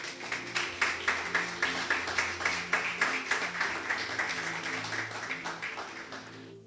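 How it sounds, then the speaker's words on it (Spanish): A church congregation applauds over sustained organ or keyboard chords, the steady rhythmic clapping fairly distant and moderately quiet. "Demos un aplauso a nuestro Dios."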